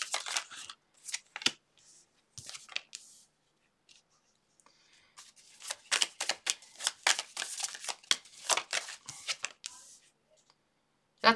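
Tarot cards are shuffled in short, crisp, riffling bursts separated by quiet pauses, close and fairly soft, growing denser and more rhythmic toward the end.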